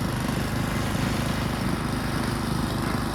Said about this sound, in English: and she blows the snow